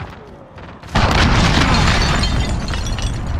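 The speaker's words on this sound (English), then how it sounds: "Enemy cruise missile, take cover!" A loud cruise missile blast in the game Modern Warfare bursts in suddenly after a quieter stretch, then rumbles on as a sustained roaring explosion without letting up.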